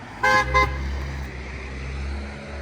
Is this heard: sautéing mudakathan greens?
no